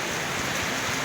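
First rain of the year falling steadily, a dense even hiss of drops spread across the whole clip with no voices and no breaks.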